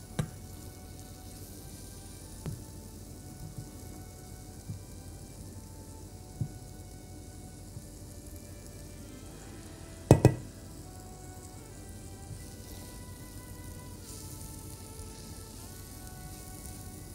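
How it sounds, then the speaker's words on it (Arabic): Semolina frying in a pan, a soft, steady sizzle running throughout with a few light knocks and one sharp clatter partway through. "هنحمر السميد لحد ما يبقى لونه ذهبي، لا فاتح قوي ولا غامق قوي"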